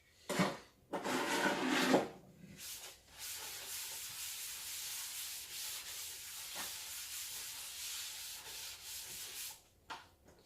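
Sponge and cloth rubbing and wiping across a surface during a living-room cleanup, close and fairly quiet, with bursts of scrubbing strokes in the first seconds followed by steadier, softer wiping.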